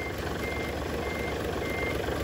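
A Fuso tractor head six-wheeler truck engine idles with a steady, even rumble, close and continuous, while a reversing beep repeats over it.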